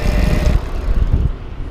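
An e-RAD 750 watt mid-drive conversion motor on an e-bike, running under throttle, gives a steady low drone with a faint whine, close by and mixed with rushing wind for under two seconds.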